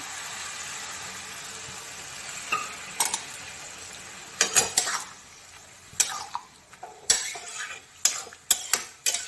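Steady sizzling of banana flower curry frying in a pan as spice-bowl rinse water is poured in, followed by repeated scraping and clinking of a spoon stirring against the pot.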